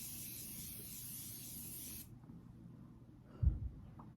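A steady hiss of travel-size makeup setting spray misting for about two seconds, then quiet with a soft handling thump.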